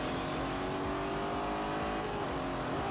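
A Lamborghini Urus V8 races in The Grand Tour video game, its engine note droning steadily and loudly with a rising tone, alongside faint tyre noise and no break in the sound.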